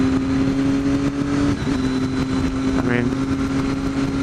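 A motorcycle cruising at 55 miles an hour, its engine a steady drone with a constant hum and wind noise throughout, under someone talking briefly.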